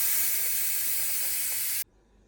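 Steam hisses steadily from a pressure cooker after cooking lamb kabseh, a loud, continuous close release that cuts off abruptly near the end, leaving faint room noise.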